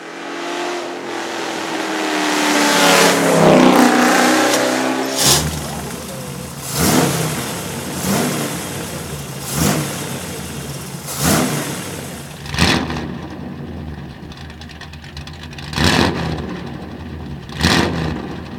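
Racing car engine revving hard on a historic mountain hill climb at Lucéram–Peïra-Cava, loud throughout, with repeated sharp acceleration bursts and gear changes every couple of seconds, some passes rising and fading.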